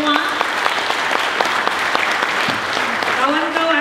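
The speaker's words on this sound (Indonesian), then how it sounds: "Tepuk tangan buat Anda semua" Applause from the audience at a national labour seminar runs steadily through the clip, a dense patter of many hands with a voice speaking over it.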